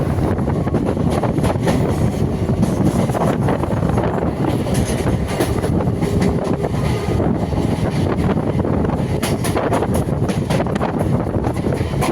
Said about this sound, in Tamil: இங்கே நம்ம வண்டி அஞ்சு பத்தொம்போதுக்கு வந்து அஞ்சு இருபதுக்கு ஆன் டைமுக்கு வண்டி கிளம்பியாச்சு